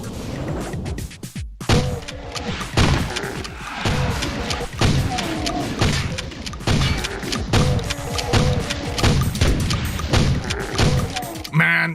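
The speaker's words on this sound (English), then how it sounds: "the ferocity of that explosion doesn't quite match up with the damage it deals to anything nearby" Explosions in a Doom mod video game sound as a rapid barrage of heavy booms and thuds with crashing impacts, loud and dense throughout.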